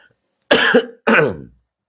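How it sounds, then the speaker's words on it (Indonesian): Two sharp coughs in quick succession, close and fairly loud, with a short pause between them. "aku lagi agak batuk dikit"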